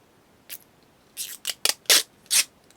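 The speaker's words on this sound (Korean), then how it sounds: "얘도 비닐이 다 붙어 있어서 떼고 쓰시면 됩니다." Protective plastic film peeled off a newly bought item: about five short, close crackling rips spaced unevenly, each a sharp crinkly burst with quiet pauses between and no voices.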